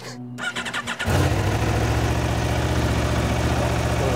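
A cold motorcycle engine cranks with a few rough coughs, then catches and settles into a loud, steady idle, close by.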